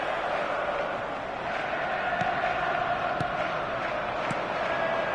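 Steady stadium crowd murmur in an eFootball video game match, a broad constant roar with a few faint sharp knocks poking through, continuous and even in level with no clear cheer or chant rising above it.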